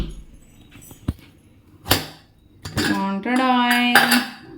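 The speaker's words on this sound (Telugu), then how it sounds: "ఇప్పుడు కుక్కర్ ఓపెన్ చేసి కర్రీ ఎలా వచ్చిందో చూద్దాం రండి" A pressure cooker holding cabbage and chana dal curry is opened, with metallic clinks and clatter of the lid and utensils, a sharp knock, then a sustained hissing, whistling tone of released steam that rises and fades.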